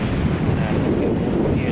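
Strong wind buffets the microphone at the Punakaiki pancake rocks coast, a dense, steady low roar that fills the whole moment with no voices.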